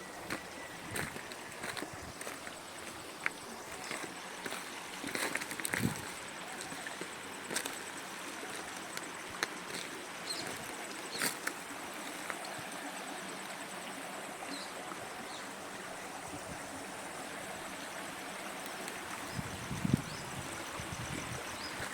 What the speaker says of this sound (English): The water sounds, the water cascade, we can hear.